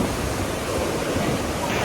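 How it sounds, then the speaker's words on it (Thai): Strong sea waves crash and wash on the beach at Khao Lak, a steady loud roar of surf close by with no clear pauses. "น้ำทะเลวันนี้แรงเลย อุ้ยแรงมาก"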